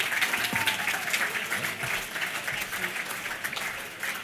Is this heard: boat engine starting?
no